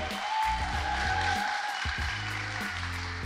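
Applause from the audience at a live recording of the Road to Restoration podcast: a steady, dense wash of clapping that lasts the whole time, mixed with low background murmur.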